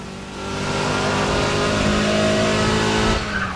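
Bone-stock Ford Mustang in the racing game Need for Speed ProStreet, its engine revving hard and steadily at high pitch for a few seconds before easing off near the end, loud and alone.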